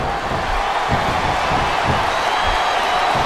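A wrestling arena crowd in the SmackDown vs Raw 2007 video game chants and roars as a steady, dense wash of massed voices with a rhythmic low pulse underneath, loud and unbroken throughout.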